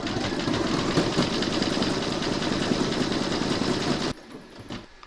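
An embroidery machine stitches a decorative round on a coaster in the hoop, a steady, loud mechanical whir with rapid needle chatter that runs for about four seconds, then cuts off to quiet.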